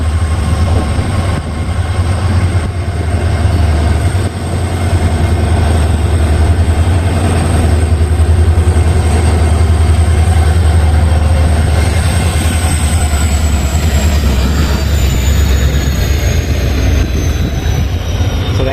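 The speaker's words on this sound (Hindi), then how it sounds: "प्लेटफॉर्म 2 पर हमारी ट्रेन अराइव हुई है" The Dehradun Kathgodam Express pulls in at a station platform with a loud, continuous rumble of rolling wheels and long, rising metallic squeals from the wheels, heard close and without any talk.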